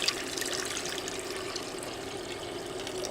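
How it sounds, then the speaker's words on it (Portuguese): Water poured into a cooking pan for broad bean soup, a steady close, even splashing stream with no talk. "vamos então começar a colocar a água numa panela"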